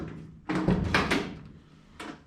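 A car door being shut, a solid thunk followed by a short rattle and a smaller knock, close and fairly loud with no voices.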